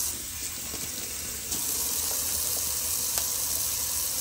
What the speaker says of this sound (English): Just a little cold water rinse.